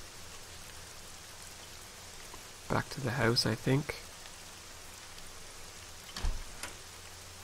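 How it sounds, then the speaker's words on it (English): Steady rain patters as a constant hiss in the detective game Nancy Drew: Legend of the Crystal Skull, running beneath a man's brief remark and a later short sound. "I really want to get out of the rain."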